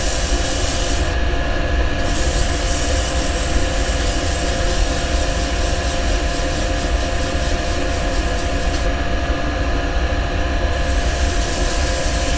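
Steady, continuous abrasive rubbing of sandpaper with oil against a side-grain wood pen pot spinning on a lathe, close and unbroken throughout.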